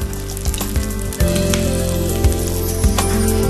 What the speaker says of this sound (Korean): 죽순을 넣어 비빈 밥은 전처럼 부쳐냅니다.